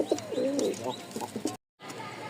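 A pair of Giribaj pigeons coo in soft, rolling calls close by, several low warbling phrases before a brief silent cut.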